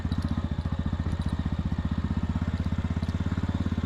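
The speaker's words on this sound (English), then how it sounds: "My bike is actually slipping a bit on these roads because of the snow on the road." A motorcycle rides up a snowy mountain road at Sela Pass near Tawang, its engine chugging in a steady, fast, loud pulse that runs throughout the clip.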